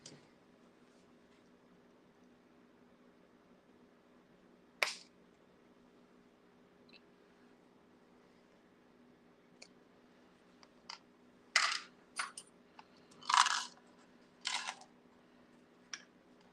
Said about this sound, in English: next part here is to nip a couple of these off.